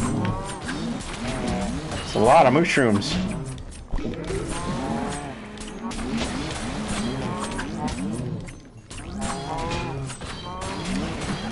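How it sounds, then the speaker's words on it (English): Cows moo repeatedly in the Minecraft Dungeons video game, a busy cluster of game-animal calls surrounding the player, loud and close, with a brief spoken remark partway through. "Look, cows. How dare you surround me that quickly?"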